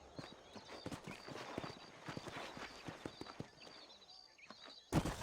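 Horse hooves clip-clopping in Red Dead Redemption, a steady, faint run of soft hoof strikes on the ground at a walking pace, ending with a brief louder thump.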